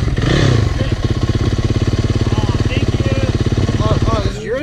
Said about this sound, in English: I thought you revved your engine to pass me